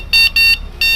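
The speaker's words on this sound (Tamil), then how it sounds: "ஹாரன் இது கொஞ்சம் டெவலப் பண்ணணும் சவுண்ட் இன்னும்" Electric cycle horn giving three short, loud, shrill electronic beeps in quick succession.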